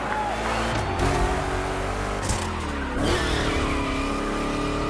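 Two Chevy big-block cars race in The Crew Motorfest, a steady loud engine roar with revving and shifting pitch, tire noise through rough turns, continuous and close throughout.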